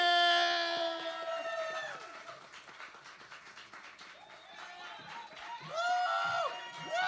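An audience cheers and whoops for performer Theresa Nelson at a live stage play, Bishop Brown & Family, with loud, overlapping high voices and crowd noise that dip midway and swell again near the end.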